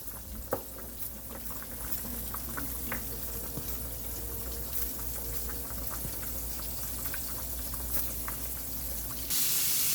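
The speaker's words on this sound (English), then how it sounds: "my chicken is frying nicely" Steady crackling and bubbling of chicken frying in hot grease, a continuous sizzle with small pops, no talking.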